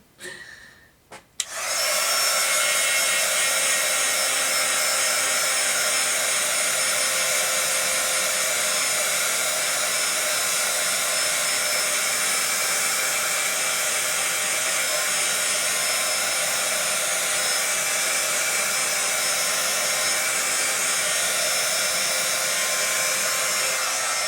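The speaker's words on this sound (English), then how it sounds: "every time you use your heat gun, you're going to reheat that embossing powder" A heat gun switches on after a brief pause and blows a loud, steady, hissing whine for over twenty seconds without break while reheating embossing powder on a mixed media craft tag.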